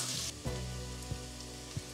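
Onion slices caramelizing in a pan, a steady close sizzle of frying with a few soft knocks of stirring spaced through it, no voices.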